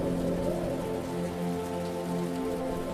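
Steady rain pours down outside a tent during a storm, a dense continuous patter of drops on the surface, loud and even throughout with no voices.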